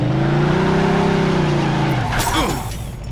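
A car engine in the video game Mafia 2 revs loudly and steadily, then its pitch drops away as the car slows. Tires squeal and skid briefly near the end.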